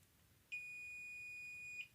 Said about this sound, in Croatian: čućete bip